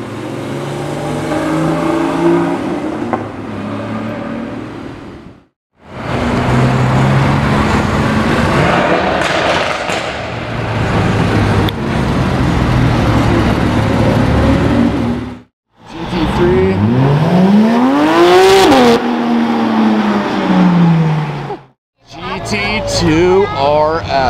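Two Porsche Carrera GT supercars with V10 engines rev loudly and continuously at close range, with a high wailing pitch sweep near the end, broken by a few brief silent gaps.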